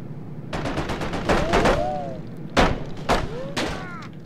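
Video game gunfire in a skyscraper level: a burst of sharp shots around half a second in, a heavy blast near the middle and another near the end, all fairly loud, with faint whistling tones trailing between them.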